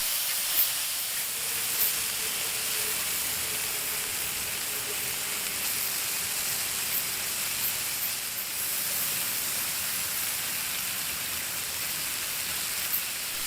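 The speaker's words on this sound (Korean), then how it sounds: "삼겹살이 맛있게 익어가고 있습니다." Pork belly sizzles steadily in a cast-iron pan, the kind cast from molten iron in a Korean foundry, giving a constant close hiss with no pauses and no voices.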